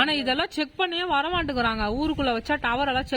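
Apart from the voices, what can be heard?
No everyday noise stands out behind the speech.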